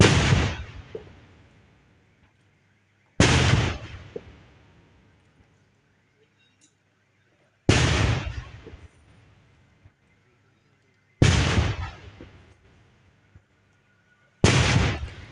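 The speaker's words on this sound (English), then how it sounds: "21 gun salutes were done in his favor." Five heavy gun blasts of a 21-gun salute ring out at a burial service. Each booming report is spaced a few seconds apart and rolls away into a long decaying echo across open ground before the next.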